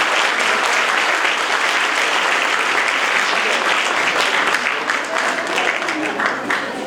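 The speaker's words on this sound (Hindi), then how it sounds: "जोरदार तालियां होनी चाहिए।" A large audience at a college event applauds loudly and steadily, dense clapping filling the space without pause, with some voices mixed in beneath.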